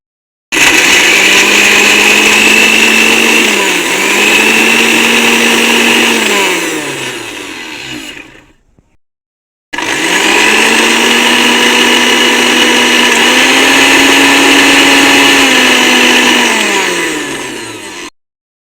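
An electric blender grinds onion into a paste in two loud, steady runs of about eight seconds each. The motor whines with its pitch dipping and rising as the load shifts, and a brief pause separates the runs.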